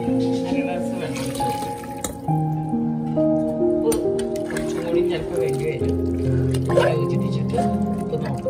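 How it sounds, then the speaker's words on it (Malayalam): Half a glass of water is poured into a pot of cooking meat rice, giving a soft splashing, dripping trickle that stays low beneath a person talking the whole time. "1/2 ഗ്ലാസ് വെള്ളം ഒഴിച്ചു"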